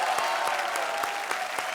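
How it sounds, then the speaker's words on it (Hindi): A studio audience at a comedy show gives loud, steady applause for a group of performers, with a continuous wash of clapping throughout. "जोरदार तालियां इन सब के लिए"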